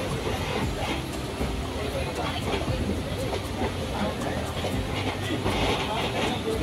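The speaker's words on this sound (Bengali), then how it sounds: "আমাদের ট্রেন তার সঠিক সময়ে একদম ছেড়ে দিয়েছে হাওড়া স্টেশন থেকে।" Passenger train rolling out of Howrah station, a steady loud rumble with faint rhythmic rail clatter and wheel noise under a person speaking.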